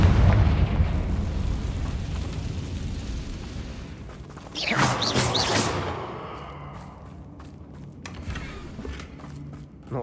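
A Confringo fire spell explosion in the video game Hogwarts Legacy, a booming rumble followed by a bright crackling burst and fading debris, loud and close, with no talk.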